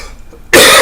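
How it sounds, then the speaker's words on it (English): A single sharp, loud cough breaks out suddenly after a short stretch of quiet room tone. "I'm sorry, I don't mean to cough in everybody."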